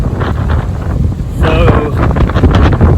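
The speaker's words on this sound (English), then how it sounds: "It is 50-mile-an-hour gust. It is raining hard, and it is blowing sideways." Strong wind gusting hard against the microphone on a mountain trail in heavy rain, a steady loud roar that swells louder halfway through, with a brief faint tonal whistle and sounds of rain mixed in.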